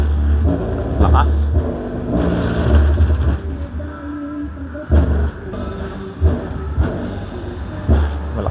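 Deep bass thumps from a subwoofer under repair, strong low-end booming pulses with a rhythmic pattern over a steady rumble, loud and close, with people talking over it.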